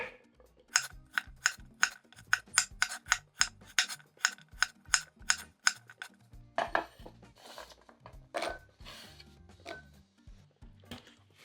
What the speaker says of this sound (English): My preferred way of cutting vegetables, rolled cut